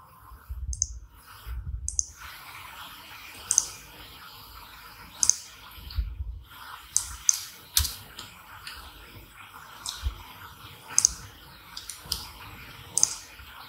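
Mouse clicks while working in Microsoft Excel, sharp isolated clicks sounding roughly every second or two, close and crisp against a quiet background with no talking.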